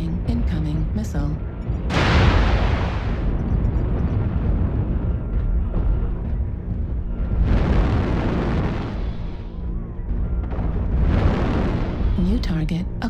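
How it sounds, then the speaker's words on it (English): Airstrike explosions in the video game MechWarrior Online: three heavy booming blasts spaced a few seconds apart, each a loud broadband burst decaying slowly, over a constant low mech rumble. "Airstrike activated."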